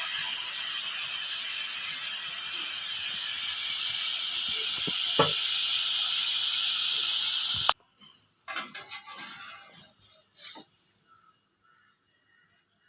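Omapodi dough pressed into hot oil sizzles and hisses as it fries, a loud steady frying sound that stops abruptly, followed by quieter clinks and handling noises.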